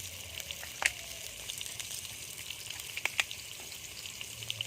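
Fish frying in hot mustard oil gives a quiet, continuous sizzle with scattered crackles and a couple of brighter pops.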